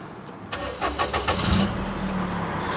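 An old EJ-DE engine in a £200 car with 47,000 miles cranks over in a few rapid pulses, then catches and settles into a steady, close idle.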